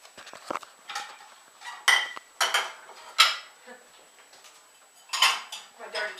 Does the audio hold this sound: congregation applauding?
no